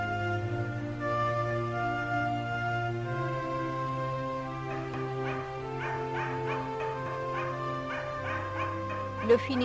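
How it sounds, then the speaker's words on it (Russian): A Finnish Spitz hunting dog gives short repeated barks in the back half, with steady tonal music or hum throughout and a sharper yelp near the end. "Финский шпиц хорошо делает стойку и своим лаем удерживает птицу на месте."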